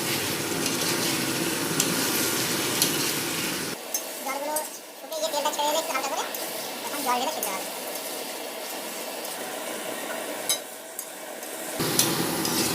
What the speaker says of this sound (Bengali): আলুটা দেওয়া হচ্ছে ওটা দিয়ে কিছুক্ষণ কষাতে হবে